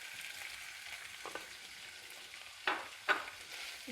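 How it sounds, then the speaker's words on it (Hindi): Chicken frying in a little hot oil in a frying pan, a soft, steady sizzle with two sharper flare-ups near the end as the pieces are moved, quiet and close with no talking. "इसको हल्का सा फ्राई कर लेंगे।"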